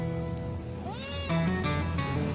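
A male calico tabby cat gives a single drawn-out meow that rises and then bends downward, close and fairly clear over a low background hum, with no one talking.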